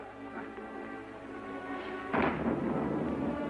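A low thunder rumble breaks out abruptly over a steady hiss and keeps rolling for a second or more, heard at a distance in a stormy outdoor setting.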